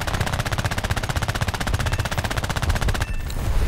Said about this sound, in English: Good fire rate on these guns too, by the way.